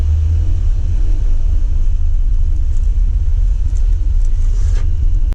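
A 2022 Toyota Avanza drives on a test track, its engine and road noise forming a loud, steady low rumble that runs unbroken for several seconds with no talk.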